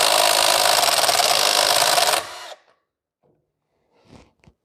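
A Milwaukee M12 right angle impact ratchet runs loud and close in a harsh, buzzing whir for about two seconds, then cuts off, leaving a few faint knocks.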